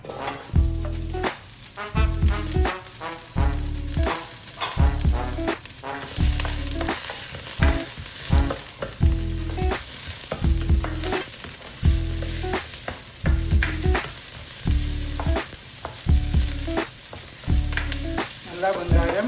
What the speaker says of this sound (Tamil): நல்லா வெங்காயம் ஒரு பவுன் கலருக்கு வரும் கொஞ்சம் வதக்கினா நல்லா இருக்கும்.